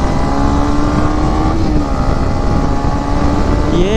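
A Yamaha MT15 BS6 motorcycle on a night ride holds a steady, close engine hum that climbs in pitch as it accelerates near the end.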